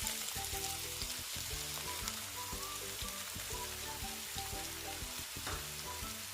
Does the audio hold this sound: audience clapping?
no